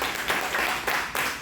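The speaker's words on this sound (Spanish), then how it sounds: "Dale un fuerte aplauso al Señor" A church congregation claps and applauds in praise during a worship service, a loud dense wash of hands that swells in waves across the short stretch without speech.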